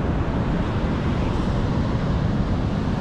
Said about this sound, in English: One very angry ocean